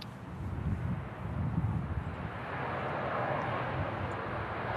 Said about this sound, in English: next to land is a Ryanair in from Marseille